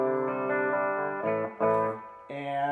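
Clean electric guitar tones from a Samick SG copy played through a Fender Blues Junior amp, several sustained chords and notes changing every second or so, fairly close and alone.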